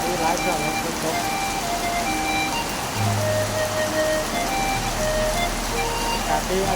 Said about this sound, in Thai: ฝนตกแรงเนาะ